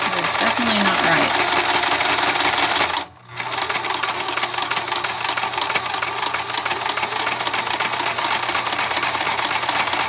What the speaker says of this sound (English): I'm doing a straight stitch this time still